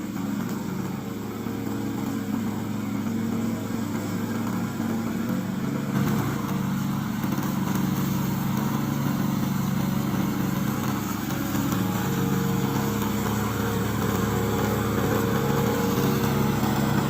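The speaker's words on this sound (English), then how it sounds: "We are a remote control lawnmower factory, and this is one of our products." A remote control lawn mower's engine runs steadily and loudly from start to finish, a continuous buzzing drone with no pauses and no voices.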